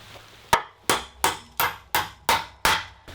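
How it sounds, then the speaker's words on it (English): A hammer drives a nail into a wooden loft ladder with seven sharp, evenly spaced strikes, each loud and close with a short ringing decay. "just hammering that nail down."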